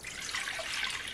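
Lukewarm water is poured into a mixing bowl while preparing a dough recipe, giving a brief, steady hissing splash with no talk over it.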